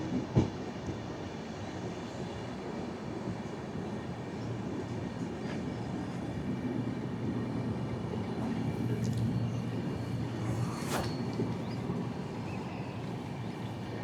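A Humsafar Express train runs through a station on the loop line, its steady rumble and rail noise continuous and fairly close, with a sharp clank near the start and brief squeals later.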